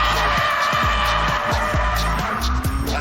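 A BMW E87 130i rear-wheel-drive hatchback on a slippery track squeals its tyres in repeated short skids over a loud, steady engine drone.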